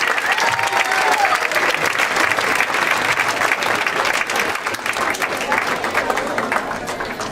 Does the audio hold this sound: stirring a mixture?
no